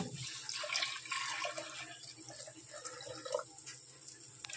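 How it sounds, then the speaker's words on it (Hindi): Hot water is poured into boiled moong dal with half a tomato in a cooking pot, a close, uneven splashing and gurgling stream. "इसमें डाल दूंगी गरम पानी।"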